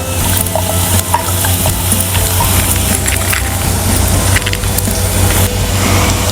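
Chopped garlic frying in a pan for Indo-Chinese chicken chilly, a steady loud sizzle with scraping stirring and occasional crackles running continuously without talk.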